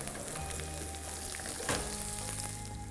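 Onion dropped into hot mustard oil sets off a loud, steady sizzle, with a sharp burst of crackling as it hits, settling into continuous close frying for okra butter masala.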